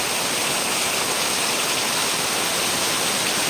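Heavy monsoon rain pouring down outside a house, a dense, unbroken roar of falling water, loud and constant throughout with no breaks or voices.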